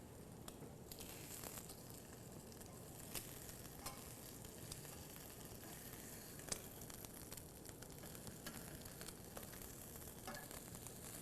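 Matzah brei frying in a pan, with excess water from the soaked matzah sizzling: a steady, quiet crackling hiss with scattered sharper pops and spatters, heard alone.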